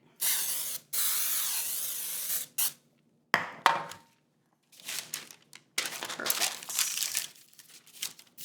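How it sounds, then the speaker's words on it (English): Nonstick baking spray hisses out of a can in several bursts onto parchment paper lining a baking pan, two long sprays and then shorter ones, with the paper crinkling and rustling in between. "I'm actually gonna give it a little spray of nonstick baking spray first"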